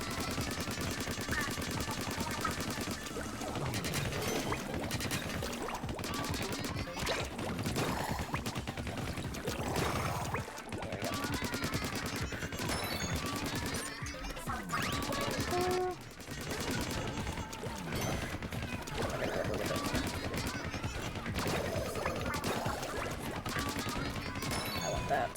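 Rapid ink-weapon fire in Splatoon's Octo Expansion, aimed at a giant plug. Dense, continuous shooting and splatter effects run under game music, with a person talking over the action.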